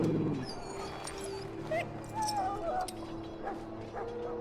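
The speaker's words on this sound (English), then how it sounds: "Now I can treat the dog properly, poor fella." Dog whimpering in the video game Dragon Age Origins: soft, high whines and yips in short bursts, quiet and fairly close, over a low game-ambience hum.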